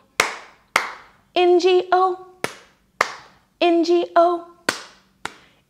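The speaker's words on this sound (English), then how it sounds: "now we're going to add two claps for the B and the I" Hand claps keep time in the children's Bingo song: sharp pairs of claps alternate with a child-like voice singing the spelled-out letters, close and clear.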